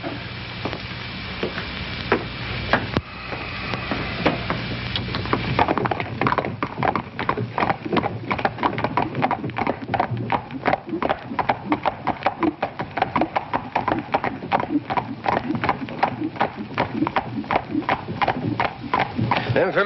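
Hooves of horses clip-clop in a steady, fast rhythm, growing louder and denser after a quieter opening, with a low rumble and some background sound underneath.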